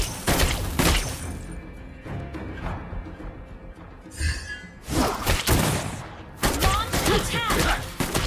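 Clint, a marksman hero in a video game, fires rapid volleys of gunshots in loud, close bursts at the start, the middle and the end, with thuds and impact crashes between them.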